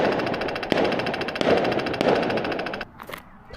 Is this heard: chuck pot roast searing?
no